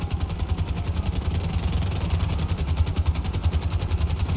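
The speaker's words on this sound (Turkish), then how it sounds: "Helikoptere bindik." A stolen helicopter in GTA 5 runs with a steady, loud low engine drone and a rapid rhythmic rotor thump pulsing throughout, with no talk over it.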